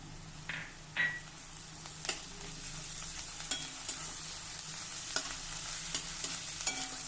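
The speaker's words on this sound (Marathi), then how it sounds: "कांदा एक मिनिटासाठी परतून झाला आता यामध्ये टेचलेला लसूण घालूया" Onion sautéing in a pan with crushed garlic for a Varhadi-style dholi dal, a steady close sizzle with scattered stirring clinks and scrapes throughout, no talking.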